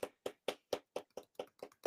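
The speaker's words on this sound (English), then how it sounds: "A little clap for them." One person claps alone for new subscribers during a therapy talk show, eight or nine crisp, evenly spaced claps about four per second, close and fairly quiet, with no talk.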